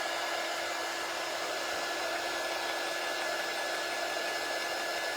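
Steady, loud hair dryer blowing continuously to dry light gray paint on a winter mitten craft tag, a constant whooshing hum with no talk over it.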